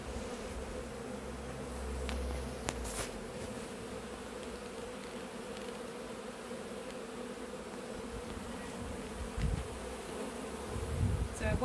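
Honeybees buzz steadily around a hive box during a cupboard cut-out, a continuous low drone with a few louder passes of individual bees close by.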